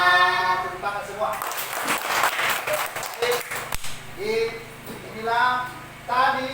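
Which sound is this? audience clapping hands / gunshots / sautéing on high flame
audience clapping hands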